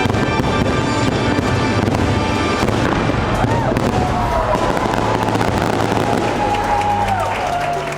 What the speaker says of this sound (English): And what better way to finish the theme parks than with fireworks?